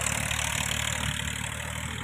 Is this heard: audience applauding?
no